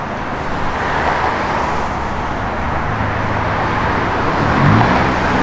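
A 1972 Chevrolet Blazer K5 idles steadily with a low, continuous engine rumble that holds an even level throughout, with a slight swell near the end and no talking.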